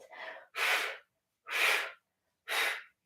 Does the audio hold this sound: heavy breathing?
yes